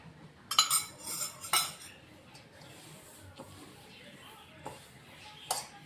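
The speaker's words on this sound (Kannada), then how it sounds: "ಇದನ್ನು ಇವಾಗ ಚೆನ್ನಾಗಿ ಕಲಸಿ ತೊಗೋತೀನಿ ನೋಡಿರಿ" A spoon mixes sweet dough with milk in a bowl. It gives soft scrapes and a few sharp clinks against the bowl, irregular and fairly quiet.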